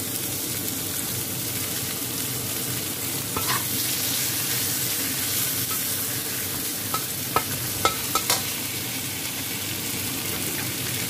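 A fish curry seasoned with gulai spices is stirred in a hot pan, giving a steady, loud sizzle with a few faint scrapes and clinks from the spoon.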